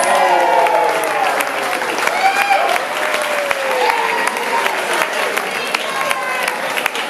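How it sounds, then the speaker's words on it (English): Wedding guests applaud steadily and loudly at a reception, with a crowd's dense clapping and scattered voices calling out over it. "Let's give Mike one more big round of applause."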